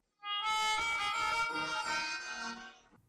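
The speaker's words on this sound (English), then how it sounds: "A melodica is a small keyboard instrument that you play by blowing air through a mouthpiece." A melodica, a small keyboard wind instrument blown through a mouthpiece, plays a short reedy melodic phrase of sustained notes, clear and alone for about three seconds.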